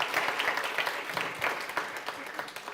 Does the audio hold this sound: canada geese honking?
no